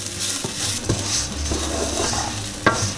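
Raw rice stirred in hot oil with garlic in a pan, a continuous close sizzle broken by a few sharper scraping strokes of the utensil, with no voices.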